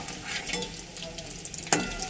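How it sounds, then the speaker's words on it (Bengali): Pakoras frying in hot oil, a steady soft sizzle with faint crackle and one sharper clink near the end, close and moderately quiet, no talking. "দেখছেন পকোড়া তৈরি হচ্ছে। এবার লাল লাল করে ভাজা হলে তুলে নেব।"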